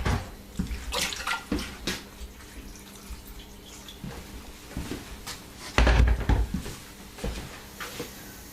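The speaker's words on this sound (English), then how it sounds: "I'm just going to add a little bit of water to this." Water is poured into a cottage pie filling of mushrooms, carrots and beans, giving a steady close splashing and trickling with a few clunks of kitchen handling.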